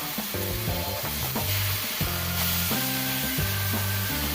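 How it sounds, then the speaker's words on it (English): Bologna sizzles in a hot frying pan, a constant hiss with some clatter and music playing in the background. "You hear the sizzle?"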